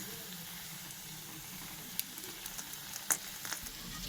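Biscuits frying in oil give a soft, steady sizzle with a few faint pops and clinks near the end, no talking.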